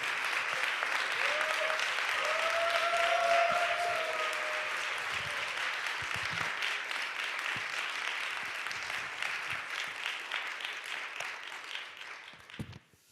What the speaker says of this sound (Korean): 우리 보내주신 하나님과 우리 목사님께 격려와 사랑의 박수 올려드리겠습니다